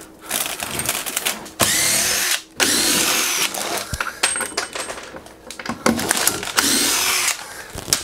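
A power drill drives screws near a hardwood floor in a tiny house, sounding in several loud, whirring bursts separated by short pauses, with small clattering noises between them.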